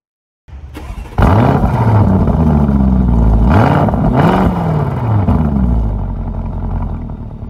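A turbocharged Lamborghini Urus engine bursts in after brief silence, then roars loud and close through several rising and falling rev swells while driving.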